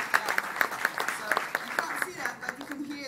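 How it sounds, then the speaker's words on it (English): An audience at the Google Big Tent event claps: a lively patter of hand claps over a few seconds, fading toward the end as a voice begins talking over it. "claps of the audience, I hope"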